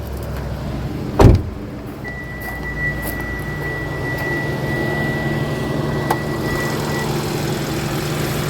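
A car engine idling with the hood open, a steady low running hum close by, with a sharp thump early on and a brief faint tone partway through, no voices.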